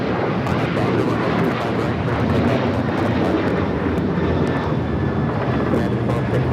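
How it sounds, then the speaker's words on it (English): A United Airlines Boeing 737-900ER takes off from runway 25 right at LAX, bound for Denver, with a loud, steady jet-engine roar that stays strong and close for the whole stretch. "United Airlines 1260 taking off to Denver, Colorado on the 737-900ER."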